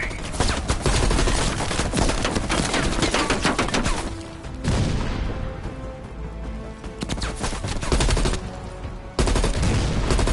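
Machine gun fire from an enemy MG position in the video game Call of Duty Black Ops Cold War, played on PS5, comes as loud, dense rattling bursts broken by short gaps of softer din.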